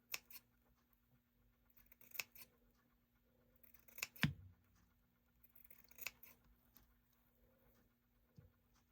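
Scissors snip through fabric to cut a little fringe on a thrifted snowman craft project, a few scattered crisp cuts with quiet gaps between them, close and fairly soft.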